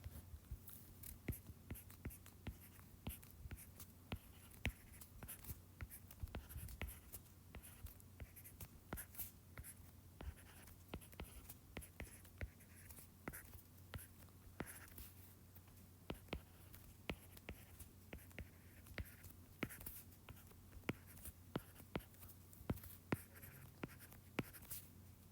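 A pen scratching across paper while drawing Pascal's triangle, faint and close, with many short strokes and taps scattered irregularly over a quiet background hum, no talk.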